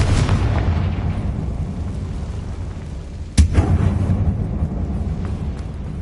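The Confringo blasting spell in a video game sets off a big explosion, a deep rumbling boom with a sharp crack midway followed by sustained roaring debris, loud and close with no talk.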